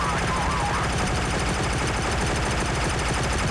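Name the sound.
gunfire in video game Heavy Fire Special Operations on Wii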